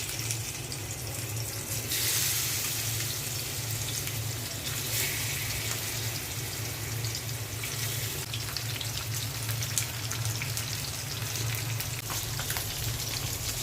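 Fish fried in hot oil in a frying pan gives a steady, dense sizzle and crackle, close and even throughout, with a brief brighter burst near the start.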